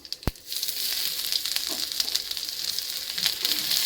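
Grated ginger drops into hot oil seasoned with panch phoron, setting off a loud, steady close sizzle that continues throughout with a faint stir, and no voices.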